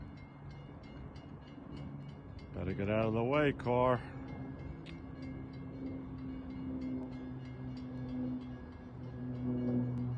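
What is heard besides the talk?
passenger train passing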